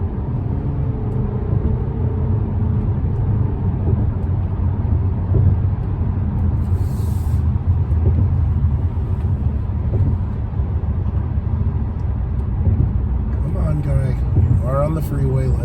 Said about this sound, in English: here we are getting onto the freeway. Going as fast as I can